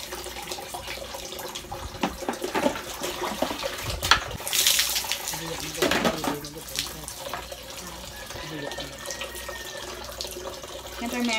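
Tap water runs steadily into a laundry-area sink during a bathing challenge, a continuous splashing flow with clattering and handling noises, while voices talk faintly in the background.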